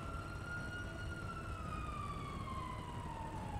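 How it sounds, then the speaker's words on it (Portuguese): A police siren in the video game GTA V wails faintly in the distance, a single slowly falling tone over a steady background rumble, with no talk. "Tô escutando sirene."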